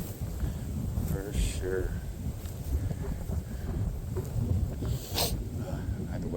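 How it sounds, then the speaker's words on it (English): Strong gusting wind roars across an open field in a clear-cut area, buffeting the microphone steadily throughout, with someone speaking briefly over it. "That wind is crazy."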